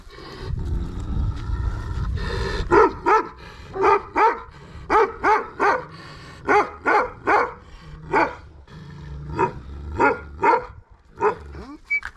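A dog barks in a steady series of sharp, loud barks, repeated in quick pairs and clusters at close range, with rumbling background noise beneath, in a scene where a dog faces off against a tiger.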